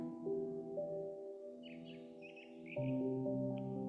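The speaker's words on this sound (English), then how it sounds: "Listen to the birds." Small birds chirp and tweet in short bright bursts, fairly faint, over a soft sustained musical drone.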